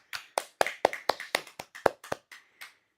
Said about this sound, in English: give yourself a small round of applause